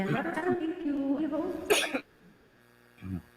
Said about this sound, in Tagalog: Inuubo pa rin ako.